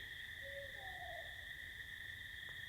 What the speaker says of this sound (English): It's the owl sound.